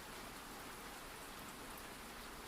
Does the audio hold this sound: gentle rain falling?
yes